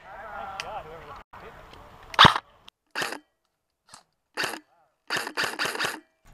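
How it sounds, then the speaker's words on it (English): Airsoft gun shooting at a target outdoors, several sharp short pops spaced irregularly, some in quick succession, fairly near, with faint background noise between shots. "As Clark is shooting at this target"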